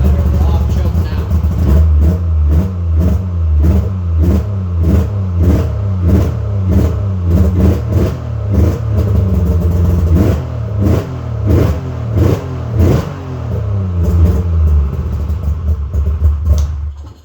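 A snowmobile engine runs steadily just after a cold start and off choke, a loud continuous mid-pitched drone with rhythmic pulsing throughout, close to the microphone, with occasional voices underneath.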